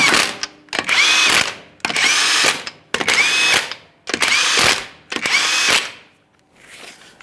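An impact gun tightens front strut bolts on a 2015–2020 Ford F-150, six loud close bursts of roughly half a second to a second each, separated by brief gaps, with a faint trailing sound at the end.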